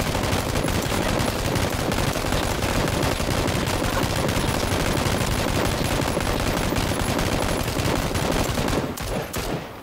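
Dense, sustained gunfire in the battle royale game PUBG, loud rapid bursts packed close together for nearly ten seconds before abruptly thinning out at the end.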